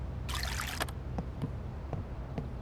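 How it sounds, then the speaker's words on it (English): Water being drunk in the game VEIN: a short burst of splashing liquid followed by several soft, evenly spaced gulps or swallows over a low, steady background hum. "Drink a little water while we're here."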